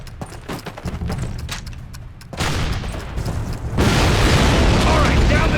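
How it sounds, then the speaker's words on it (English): Cannon firing in Call of Duty amid a wartime trench battle, with scattered distant gunfire giving way to a heavy boom and a sustained roaring blast that swells louder toward the end. "This cannon's about to go boom!"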